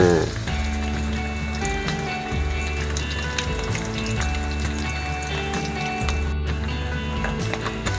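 A crispy Thai omelette frying in a pan of oil, giving off a steady, bright sizzle and crackle that holds close and constant throughout.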